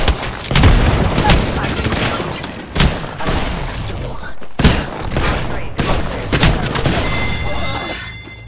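Frag grenade blasts and gunfire in the Apex Legends video game, a dense, loud stretch of booms, thuds and rapid shooting layered over continuous game noise.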